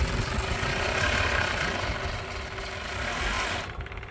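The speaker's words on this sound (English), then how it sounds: "we just overlock this one edge" An overlock sewing machine stitches along a strap edge, a close, steady whirring motor hum with a fast mechanical chatter that runs continuously and then drops off at the end.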